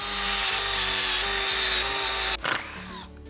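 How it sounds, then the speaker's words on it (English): A power drill bores holes while building a homemade vacuum table, a loud, close, sustained high whine with brief pauses, ending in a short burst of grinding as the bit breaks through. "I can drill all the other holes"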